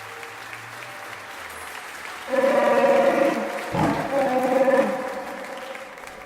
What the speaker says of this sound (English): The last reverberations of celebratory applause mixed with the roar of a Wookiee finally die down